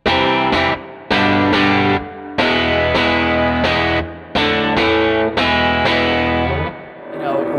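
A heavily driven electric guitar plays loud, chunky chords in bursts with short gaps, through a saturated Fender Hot Rod tube amplifier, with a tight, punchy low end.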